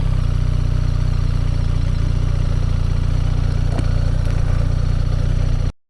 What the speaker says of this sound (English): has a different starter sound, and the engine has a bit of a different sound, a bit more refined